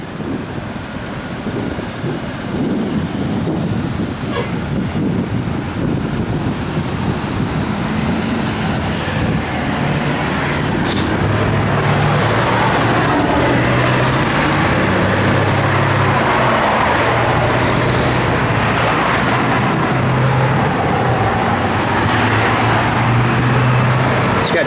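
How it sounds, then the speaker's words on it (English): A 1964 Ford Falcon Sprint V8 with a mild cam and Flowmaster dual exhaust rumbles with a deep, throaty note, idling and revving moderately close by, with some wind noise over the microphone. "It's got Flowmaster dual exhaust. Again, a little cam to it, so the car hits a lick"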